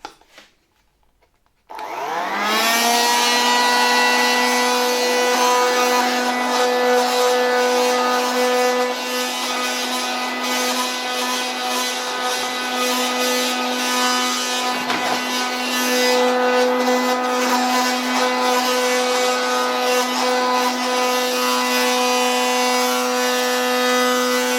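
An old Soviet Vietierok 2 handheld vacuum cleaner and brush on its original Leningrad-factory plug switches on after a short quiet moment, then runs on alone with a loud, steady, high-pitched motor whine.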